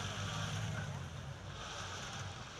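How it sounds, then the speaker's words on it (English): A super stock pulling tractor engine idles with a deep, steady low rumble at a tractor pulling event, loud and continuous throughout with wind noise over the top. "We can hear the engine running. That super stock type rumble you can hear."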